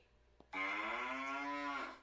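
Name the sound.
cow mooing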